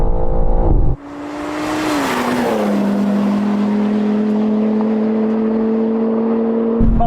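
Racing video game car engine, a steady synthetic whine that drops in pitch after a gear change and then holds a loud, even drone, with a brief engine burble at the start and end.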